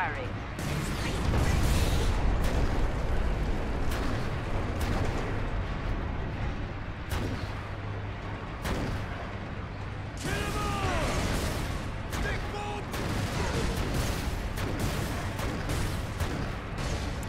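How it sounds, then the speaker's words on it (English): Gunfire rattles through a battle aboard an Ork looted train in Warhammer 40k Space Marine, with sharp repeated shots, mechanical clanks and a steady low rumble running throughout, while voices talk over the action. "Gun firing."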